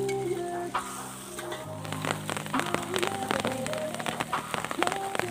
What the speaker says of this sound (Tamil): மழை வேற சொட்டிட்டு இருக்குது எங்க மேல